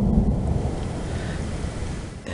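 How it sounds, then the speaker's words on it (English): Deep rumble of an approaching thunderstorm in the Rocky Mountains rolls in, a low, sustained growl with some wind buffeting the microphone and no talking. "it sounds like another thunderstorm is coming in."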